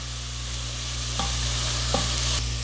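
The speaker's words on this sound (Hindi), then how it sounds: "ये सबको आपको तेज़ आंच पे ही 1 से 2 मिनट सौते करना है" Chopped spring onions, white and green parts, sauté over high heat in a pan, giving a steady loud sizzle with a couple of brief utensil knocks and stirring sounds, no voices.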